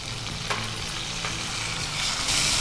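Tomato pieces dropped into hot oil for a tempering set off a steady, loud sizzle and crackle that runs the whole time, with a few sharper spits and a surge of frying noise near the end.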